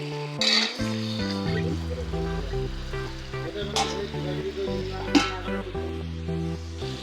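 Tomatoes soften in a hot pan for a chicken curry, a moderate sizzle with occasional stirring clinks running under steady background music.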